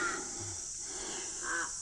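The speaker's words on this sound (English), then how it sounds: "Crows." Crows caw near Jim Jim Falls in Arnhem Land, two short harsh calls at the start and end over a steady high insect-like hiss, fairly faint and distant.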